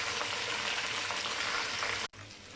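Chicken fingers frying in hot oil, a dense, loud crackling sizzle that runs steadily, breaks off in a brief cut, then resumes slightly quieter, with no talk.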